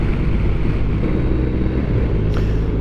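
A BMW R1250RT touring motorcycle cruising down the road, giving a steady, loud low engine rumble mixed with wind and road roar, continuous with no breaks or talk.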